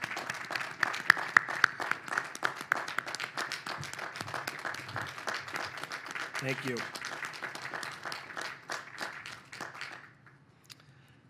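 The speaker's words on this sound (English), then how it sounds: "So how about a round of applause?" Crowd at a navy ship commissioning ceremony on San Francisco Bay bursts into applause, sharp close claps over a dense crowd patter that fades out near the end, with a brief spoken thanks.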